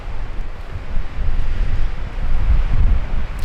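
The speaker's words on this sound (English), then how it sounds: "it's just so windy" Strong wind buffeting a microphone high on a mountaintop above timberline in Colorado, a constant low roaring rush with gusty swells, loud and close, no voices.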